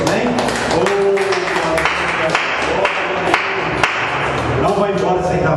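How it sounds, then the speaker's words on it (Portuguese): Church congregation clapping at the close of a worship service, a full, steady round of hand claps in a reverberant hall, loud and continuous, with voices mixed in underneath. "E que as palmas louvem a Deus."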